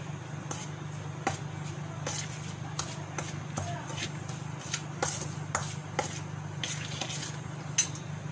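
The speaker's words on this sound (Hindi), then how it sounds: "इन सारे इंग्रेडिएंट्स को हम अच्छी तरीके से मिला लेंगे" Dry besan and semolina stirred together in a bowl, soft scraping shuffles with sharp clinks at irregular intervals over a low background hum, a voice speaking throughout.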